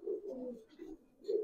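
Gribaz pigeons coo softly in a short run of low, throaty rolls, three murmuring pulses separated by brief gaps, quiet and close with no voices.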